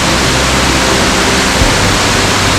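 Moss Glen Falls near Stowe, Vermont roars as a powerful waterfall, a loud, unbroken broadband rush that fills the whole moment with no voices.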